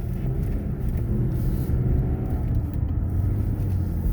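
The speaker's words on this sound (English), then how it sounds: "Now I have to wait for cars to go by so I don't blind them" Cars drive by on a road at night, a steady low engine and tyre rumble heard from a nearby vehicle, with no clear individual pass-by peaks.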